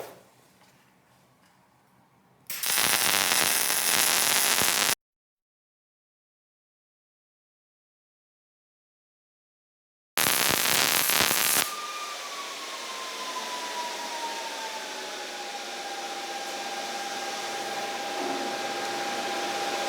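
A Miller Multimatic 220 welder runs on 240 volts in two loud bursts of harsh, hissing crackle with silence between them, followed by a lower steady hum with a faint whine.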